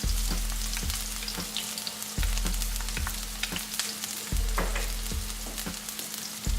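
Onions and ginger fry in a pan with a steady, close sizzle, punctuated by regular scraping strokes of a spoon every second or so, with no talking.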